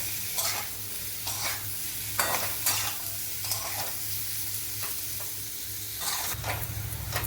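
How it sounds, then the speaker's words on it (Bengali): Sweet potatoes fry in a pan for sweet potato payesh, giving a steady close sizzle with repeated scraping stirs and a low hum underneath, louder toward the end. "এবার মিষ্টি আলুগুলো দিয়ে দিচ্ছি। এবার একটু এটা ভাজবো।"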